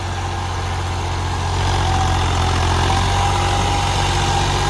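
A tractor engine runs alone, a loud continuous low drone that rises slightly in intensity after the first couple of seconds and then holds steady.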